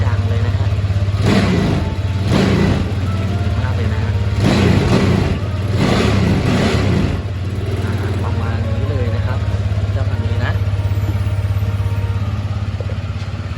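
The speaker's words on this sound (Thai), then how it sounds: "ผมมาลองมาฟังเสียงท่อเดิมกันหน่อยดีกว่านะฮะ สตาร์ทติดทีเดียวรู้เรื่องเลยนะครับ" A 2020 Lambretta V200 Special scooter idling on its stock exhaust, a steady low drone with several throttle blips rising and falling, loud and close throughout.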